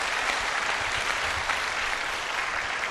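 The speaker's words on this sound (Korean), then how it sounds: "let's give a glorious round of applause to our Lord" A congregation at a church gathering in Manila gives a round of applause, a dense, even wash of clapping that stays steady and fairly loud throughout.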